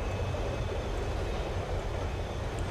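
Train interior ambience in a realistic horror video game, a steady loud low rumble of rolling rail carriage with faint hiss and a thin constant whine, no speech.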